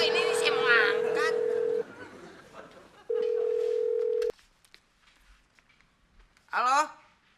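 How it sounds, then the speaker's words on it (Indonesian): A telephone rings in an office pantry with two long steady electronic tones separated by a pause, loud and close, while people talk over the first ring. "Il, angkat tuh telepon."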